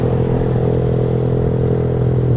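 A motorcycle fitted with a loud aftermarket racing exhaust drones at a constant, deep, throaty level throughout while riding, close and alone without speech.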